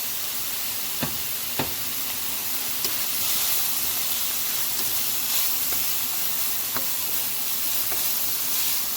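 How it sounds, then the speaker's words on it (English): Browned beef sizzling in oil in a pan on low-medium heat, giving a steady close hiss with a few faint clicks and taps scattered through it. "And then add in your brown beef."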